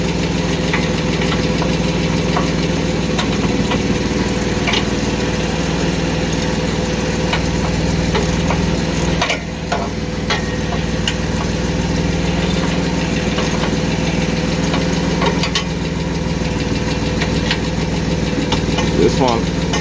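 A 1991 Mercedes 190E engine idles with its exhaust running, a steady mid-pitched rumble with a faint knocking pulse, heard close and continuous with a brief dip midway.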